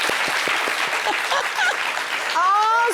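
Studio audience applause on a French fashion television show, a steady dense patter of clapping with a few sharper claps and some chatter mixed in, ending with a brief whistle-like tone.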